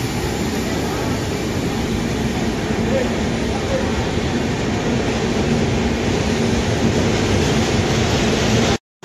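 A train at a railway station platform gives a loud, continuous rumble and rolling roar that holds steady throughout, then cuts off abruptly at the end.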